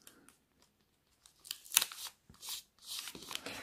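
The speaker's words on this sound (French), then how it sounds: "je vais tout simplement remonter mon papier sur ma boîte que je vais venir coller avec un morceau de papier collant" Wrapping paper is folded up over a gift box and fixed with sticky tape, giving close rustling crinkles and a sharp tape rip in irregular bursts, with no talk.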